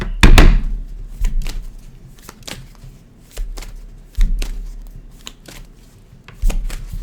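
Tarot cards being shuffled in a series of quick, riffling bursts with soft thumps between them, close and fairly loud, with no talking.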